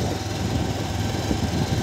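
A motorbike engine drones steadily while being ridden along a rough, potholed road, a close, continuous low rumble without any talking.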